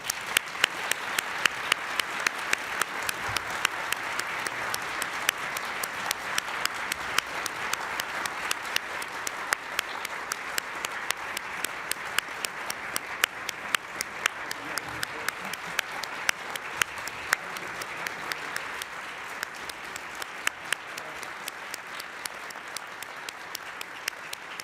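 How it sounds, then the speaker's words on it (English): A large audience applauds steadily for about twenty-five seconds at a signing ceremony with the Smithsonian, a dense, even wash of many hands clapping with no voices over it. "Please join me in a round of applause."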